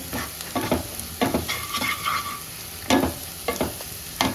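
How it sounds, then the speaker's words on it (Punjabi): Garam masala roasts and sizzles in a hot pan for a pea and gram flour curry while being stirred. A steady fry hiss sits under repeated scraping strokes of the spoon, loud and close, with no voices. "ਹੁਣ ਇਹਨੂੰ ਚੰਗੀ ਤਰ੍ਹਾਂ ਮਸਾਲੇ ਨੂੰ ਜਿੱਦਾਂ ਆਪਾਂ ਭੁੰਨਣਾ ਉਸੇ ਤਰੀਕੇ ਨਾਲ ਭੁੰਨ ਲਾਂਗੇ"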